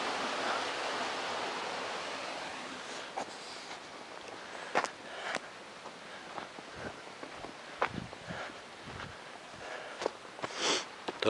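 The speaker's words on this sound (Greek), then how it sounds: "Ακούτε το νερό? Δεν το βλέπουμε όμως." A hidden stream runs under snow in a wintry village, a soft steady rush of water heard at a distance beneath close crunching footsteps and scattered handling noises.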